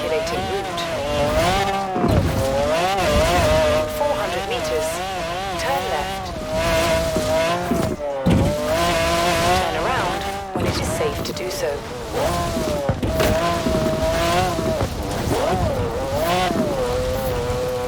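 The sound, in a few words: McLaren F1 supercar driving in Forza Horizon 4 video game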